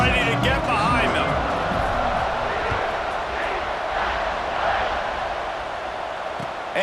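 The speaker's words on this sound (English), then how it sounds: "this crowd now ready to get behind them" A stadium crowd roars at kickoff in the EA Sports College Football 26 video game, a broad, sustained wash of cheering under a commentator's voice.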